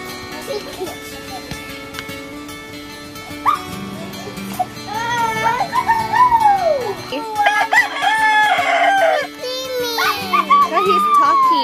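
A turkey on a farm gobbling loudly in repeated warbling bursts, mixed with other fowl calls and a dog, while people talk nearby.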